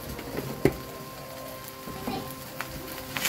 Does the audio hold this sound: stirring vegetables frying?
yes